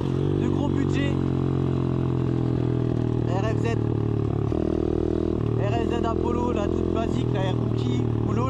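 A motorcycle engine runs close and loud, its pitch rising and falling as it revs and shifts while riding.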